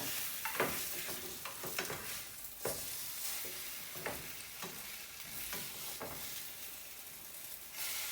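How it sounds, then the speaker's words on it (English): French toast sizzles steadily in a hot pan just after being flipped, with a close, continuous fry hiss broken by scattered spatula scrapes and taps. "I'm gonna flip them so that the other side cooks."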